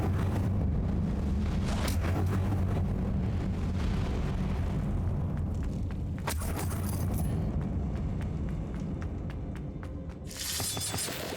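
The Incendio fire spell cast in Hogwarts Legacy, a loud, dense roaring burst of flame with crackling shatter-like bursts, sustained for several seconds and then flaring again, close and without talk.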